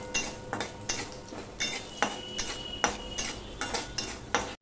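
Repeated scraping and clinking of a utensil stirring cinnamon sticks and cumin seeds in a hot pan, close and distinct strokes at a steady rhythm with a faint sizzle beneath.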